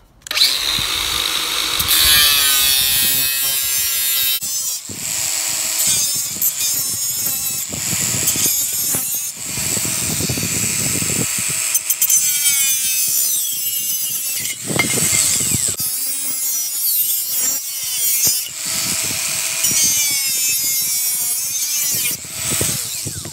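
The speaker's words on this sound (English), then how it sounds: "I'm just going to take my trusty angle grinder and I'm going to cut down there and cut that off" An angle grinder cuts through the exhaust muffler of a Husqvarna 372XP chainsaw, giving a loud, continuous high-pitched metallic whine that rises and falls in bursts as the disc bites and lifts, with no talking.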